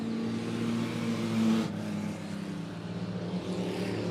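Bomber-class late model race cars roar around Monett Motor Speedway during a heat race, a continuous blended engine drone with a brief louder swell as a car passes nearby.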